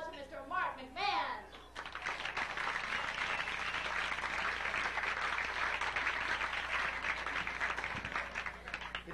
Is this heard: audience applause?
yes